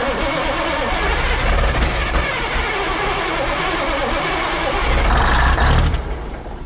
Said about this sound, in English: Let me just try to keep it alive with some starting fluid.